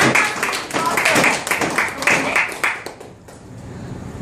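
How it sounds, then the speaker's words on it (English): An audience at a sales presentation gives a round of applause, loud dense clapping that gradually thins and fades toward the end. "Give him a round of applause."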